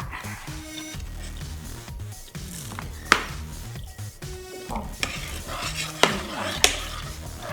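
A pot of Thai sweet bolete mushroom curry seasoned with fermented fish sauce is coming to a boil. It gives a steady bubbling, sizzling hiss with a few sharp clinks of a utensil against the pot, over faint tonal background sounds.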